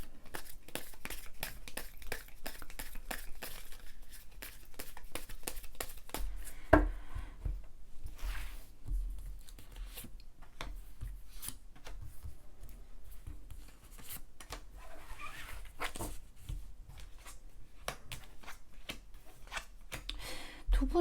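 Tarot cards being handled and drawn from a deck, a steady run of soft papery shuffling, flicking and tapping clicks, close and fairly quiet with no voice.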